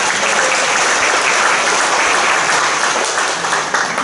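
Loud, dense applause from a church congregation at a Korean Bible seminar, many hands clapping steadily and close throughout.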